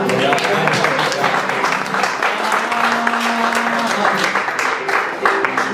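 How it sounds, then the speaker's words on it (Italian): Audience applause, a dense steady clapping that carries throughout, with voices mixed in. "Facciamo un applauso, Carlo."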